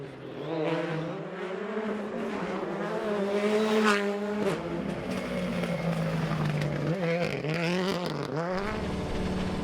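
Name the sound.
rally cars racing on tarmac stage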